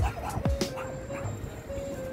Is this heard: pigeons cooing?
no